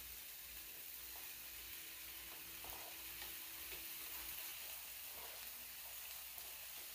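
Bacon frying in a pan gives a continuous soft sizzle and hiss, low in level and steady throughout, with faint stirring scrapes.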